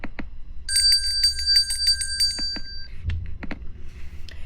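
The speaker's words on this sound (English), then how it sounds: "I set my alarm clock for 2 hours, which was this sound." A bright electronic alarm clock rings in rapid repeated bursts of high beeping tones, with a few sharp clicks and knocks around it.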